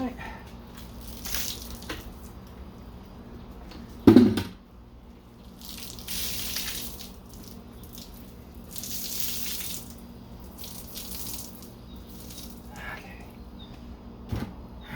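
Water streams and splashes while rinsing a car during an outdoor wash, a steady running flow with one sharp knock and a few soft thuds along the way.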